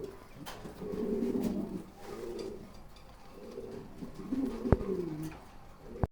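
A pair of pigeons coo close by in low, throaty repeated phrases that swell and fade, with a sharp click near the end.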